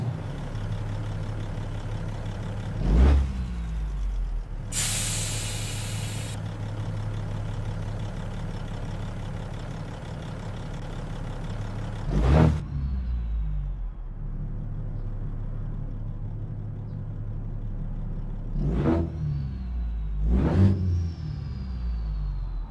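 A Peterbilt 359 with a Cat C15 engine runs in a trucking game, with a steady low diesel rumble broken by a few sharp revving surges and one brief hissing burst.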